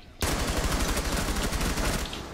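Rainbow Six Siege gunfire erupting suddenly into a dense, continuous burst of rapid shots that lasts a couple of seconds, loud and close.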